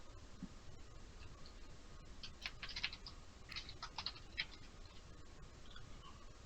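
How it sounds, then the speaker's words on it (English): Rapid keyboard typing clicks come in a short burst in the middle, fairly loud and close over a steady background hiss, with no one talking. "I thought that was you typing, but it sounded pretty loud"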